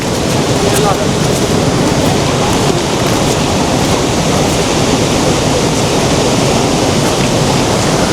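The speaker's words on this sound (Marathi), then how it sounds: "किती सुंदर धबधबा आहे" Steady, dense roar of rushing water fills the whole stretch, a broad unbroken wash like a waterfall close by.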